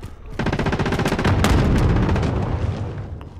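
Enemy gunfire in Call of Duty Rebirth Resurgence rattles out as a loud, rapid automatic burst, with fast repeated shots running nearly continuously for a few seconds before tapering off.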